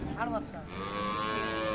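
Cow mooing at a rural cattle market, a Friesian cow with a calf, giving a couple of short lowing calls and then a longer sustained moo over busy background market noise.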